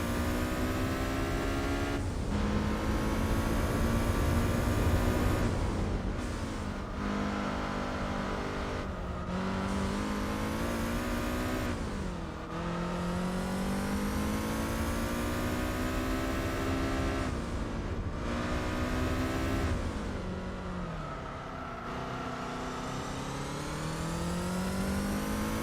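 A car engine in Gran Turismo 4 on a Seattle track revs up repeatedly, with pitch climbing in steps and then dropping as gears shift, loud and steady for about twenty-five seconds.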